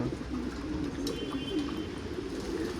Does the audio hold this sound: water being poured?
no